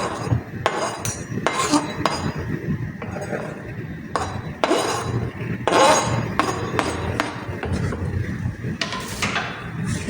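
Chopped vegetables and a small onion are tossed together in a metal bowl for pakora batter, giving repeated close clinks and scrapes of utensil against the bowl at an uneven rhythm.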